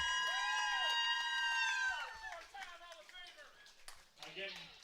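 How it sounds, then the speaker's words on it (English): A wrestling crowd roars for Lone Wolf Bobby Blade at a primetime wrestling event, a steady mass of cheers beneath loud tonal entrance music and a commentator's voice, fading to a rougher crowd murmur. "Listen to that crowd."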